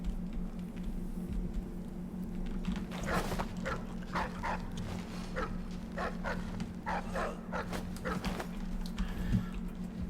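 A dog in the stealth video game Dishonored 2 gives a series of soft, distant barks and yips over a steady low game hum, with no talk.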